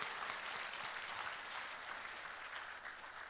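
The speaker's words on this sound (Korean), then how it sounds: "큰 박수로 우리 한번 기대를 한번 응원하겠습니다" Applause from the audience at the opening ceremony of Mapo Central Library rolls on as a steady, even wash of clapping, heard alone and at a distance, without voices.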